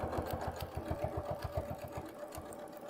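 Sewing machine stitching through quilt fabric, a fast steady rhythmic chatter of needle strokes that runs evenly at close range and then slows near the end.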